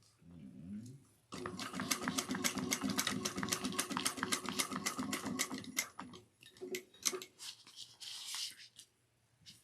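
A sewing machine runs a fast, steady stitching burst for several seconds while top stitching a fabric trick-or-treating bag, then slows into a few short stop-start runs and handling noises.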